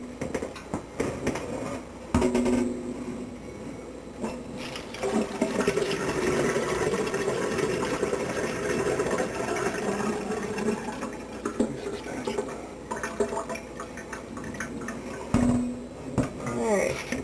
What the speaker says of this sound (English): it is now time to separate the curds from the whey by pouring them out